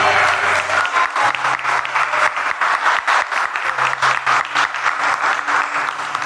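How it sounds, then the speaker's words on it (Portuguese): A church congregation claps in rhythmic unison, loud and close, with a sustained low tone or music running beneath the beat. "Sabe que você pode aplaudir o nome dele?"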